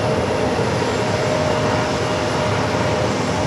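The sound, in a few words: Boeing 737 MAX 9 airliner at JFK airport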